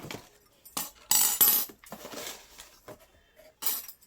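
Metal attachments for an electric hand mixer used in cake baking clink and clatter in a handful of sharp, close knocks and rattles, with quiet gaps between them.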